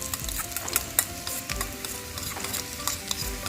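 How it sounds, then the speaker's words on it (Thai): Chili, garlic and peppercorns stir-frying in hot oil, with a steady crackling sizzle and repeated scraping strokes of the spatula through the whole stretch. "เดี๋ยวเราจะมาเริ่มผัดกันแล้วนะครับ"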